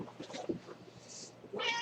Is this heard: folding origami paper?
no